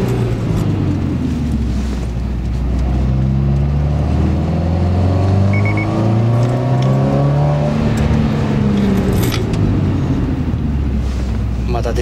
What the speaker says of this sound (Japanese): 3500回転ぐらいで ブーストかかります。 ブーストがブーッと立ち上がるんですね